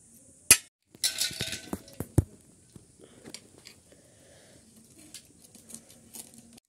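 Malvani clams (tisre shells) clinking and scraping as they are cleaned by hand in a village kitchen, with sharp knocks, a burst of rattling shell contact early on, then scattered lighter clicks and taps, close and fairly quiet.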